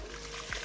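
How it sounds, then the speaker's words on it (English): Water trickles and pours in from a drum pump pressure tank system, a brief, faint, close rush of flowing liquid. "The water is coming because it's already draw the water since I opened the master valve over there."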